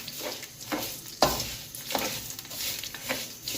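A spoon stirs sugar into a pot of zarda sweet rice, giving soft repeated scraping and shuffling strokes with one sharper knock against the pot, moderately close and fairly quiet.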